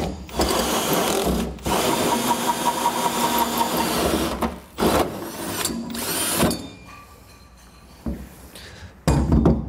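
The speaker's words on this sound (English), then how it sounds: "All right, and now we begin drilling." A power drill enlarges a pilot hole through the bed of a Ram pickup truck to mount a fifth wheel hitch, making loud grinding bursts separated by short pauses and a few lighter, thinner stretches near the end.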